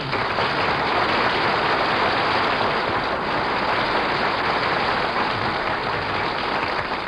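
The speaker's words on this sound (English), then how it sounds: "did you hear that applause, Mary?" Audience applause at a New York radio broadcast, a full house clapping in a thick, steady roar that holds evenly for several seconds with no voices over it.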